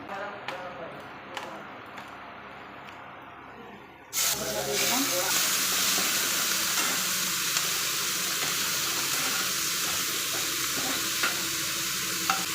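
Marinated prawns fry in a pan. Quieter scraping and ticking comes first, then a sudden loud, continuous sizzling hiss as they hit the hot oil, holding steady to the end.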